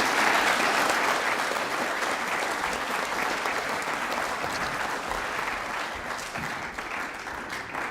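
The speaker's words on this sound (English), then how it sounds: "Round of applause for these students." An audience at a school co-curricular prizegiving applauds students, a sustained burst of clapping that fills the hall and gradually tapers toward the end.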